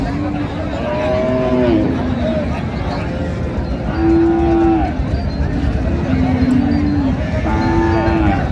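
Several cows and calves moo repeatedly, long low calls rising and falling amid a busy crowd murmur and haggling voices at Raniganj cattle market, Dinajpur, Bangladesh.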